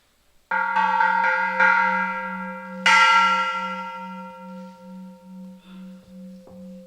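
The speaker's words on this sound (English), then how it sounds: "This is a temple bell." A large Korean temple bell is struck several times, each deep strike ringing out and slowly fading into a long, pulsing hum with no other sound.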